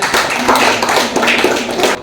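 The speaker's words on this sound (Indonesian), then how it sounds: "tepuk tangan untuk temannya." Classmates in a classroom clap for a fellow student, a dense burst of hand claps lasting about two seconds before cutting off.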